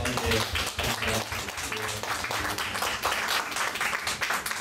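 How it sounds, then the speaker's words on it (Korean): A Sunday congregation at Pangyo Full Gospel Church breaks into a round of applause after a testimony, a sustained crackle of many hands with a low hum of sound beneath. "우리 다시 한번 박수로 한번"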